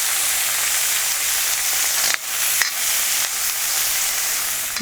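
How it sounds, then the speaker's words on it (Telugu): Onions frying in hot oil with curry leaves, for a cucumber and dried prawn curry: a dense, close sizzle that runs continuously, interrupted by a couple of brief stirring scrapes. "దీంట్లోనే ఉల్లిపాయలు వేసేయాలండి. కొంచెం వేగనివ్వాలి ఇవి దోరగా."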